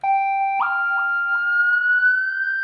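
A keyboard tone glides upward with the pitch bend, sliding smoothly from one note to a higher one over about two seconds with small wavering steps, loud and alone.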